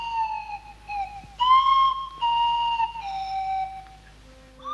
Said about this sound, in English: the sound is coming from the Swanee whistle